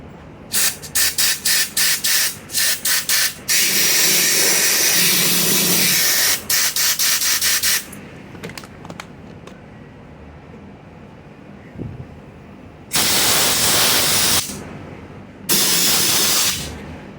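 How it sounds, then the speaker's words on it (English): A compressed air hose blasts into an empty gas tank while a prototype carburetor is being cleaned. Loud bursts of hissing air come in rapid short pulses, then longer sustained blasts, with quieter pauses between them. "We're going to take air hose and blow the gas tank out."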